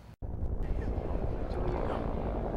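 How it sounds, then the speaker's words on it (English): Helicopters work over a hillside brush fire while dropping water to protect homes, producing a steady, loud rotor drone and rumble after a brief cut at the start. "Helicopters are dropping wattage trying to save homes."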